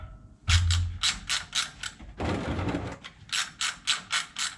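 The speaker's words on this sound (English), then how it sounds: "Not enough room to fit that, so it's an old ratchet." An old ratchet wrench works a differential plug on a 2016 Ram 2500 Power Wagon, giving a series of sharp, close clicking bursts in rhythmic strokes, broken by a brief rougher scrape.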